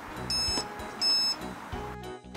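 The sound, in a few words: single warning beep from an electrostatic dog fence receiver collar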